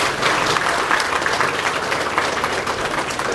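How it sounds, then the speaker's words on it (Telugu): Audience applause at a new-moon homam ritual gathering, dense and loud clapping sustained evenly throughout. "ఎంత గొప్పదో చప్పట్లు కొట్టిన ఒకసారి."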